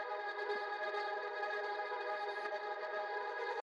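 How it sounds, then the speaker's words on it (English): Echo-laden synth tone in a music track being produced, a sustained, heavily effected layered chord with repeating reverberant echoes, steady and fairly quiet throughout before cutting off abruptly. "And then I hear all these echoes"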